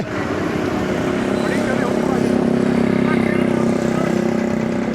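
A motorcycle engine drones steadily nearby at a Maghi festival langar, its low hum swelling slightly, while people talk over it.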